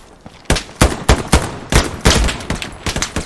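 Gunfire in the World War II shooter Hell Let Loose cracks out in about ten sharp, loud shots at an irregular pace, close and dominant with no talk.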